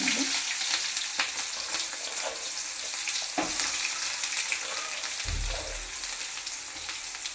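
Onions roasting in a pan after mustard seeds and curry leaves went in for a sabbakki greens and lentil stir-fry, giving a steady close sizzle with occasional stirring scrapes and a deeper thump near the end, with no talking.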